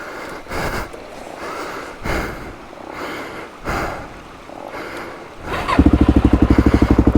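A Suzuki DRZ400E dirt bike labours on a steep Australian fire trail. Its engine blips and surges in repeated bursts of revving, then settles into a loud, fast, rhythmic idle chug near the end.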